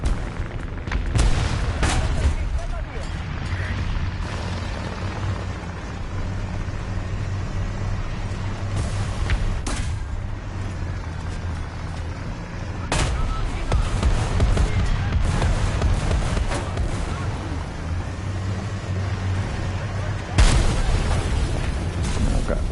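Heavy bomb blasts in a war video game hit in a series of loud, deep booms, some sharp and sudden, over a constant low engine rumble, with a voice talking now and then.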